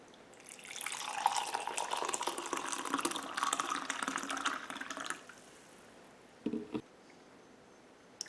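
Hot water pours steadily over turmeric, a continuous splashing stream for about five seconds, then stops, followed by a couple of brief knocks.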